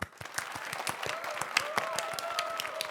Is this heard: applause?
yes